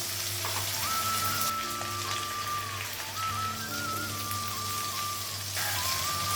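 Spices fry in a pan after ginger paste is added, giving a continuous dense sizzle like light rain at moderate loudness. A faint steady tonal hum runs beneath it, with no speech.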